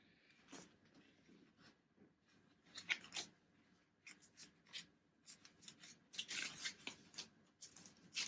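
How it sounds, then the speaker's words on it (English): Scissors cut through packaging around a Charles and Keith bag, making close, quiet snips and rustling scrapes in irregular bursts that grow busier toward the end. "which needs a pair of scissors"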